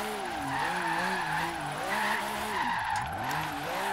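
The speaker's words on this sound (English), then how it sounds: "mid-engine rear-wheel drive little track car" A mid-engine rear-wheel-drive track car drifts in Forza Horizon 3, its engine droning and warbling as revs rise and fall, over a continuous tire screech, loud and close with no talk.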